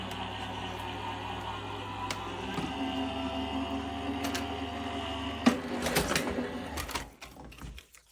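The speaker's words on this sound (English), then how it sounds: "So we're going to send this through the machine." A die-cutting machine for papercraft card making runs plates through with a steady, close motorized whir and rhythmic clicking, then ends in a few louder clunks before it goes quiet.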